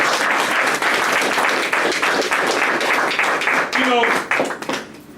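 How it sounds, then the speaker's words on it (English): Audience applause at a religious Sunday School gathering, a dense, loud wash of clapping that fills most of the clip, then thins as a voice begins speaking over the last moments. "Give them a round of applause."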